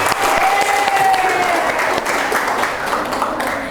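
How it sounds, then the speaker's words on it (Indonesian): Students in an Islamic religious education class clap for a classmate's answer, loud, close, dense applause that stays steady throughout, with a faint tone briefly sliding through it. "Ya, tepuk tangan."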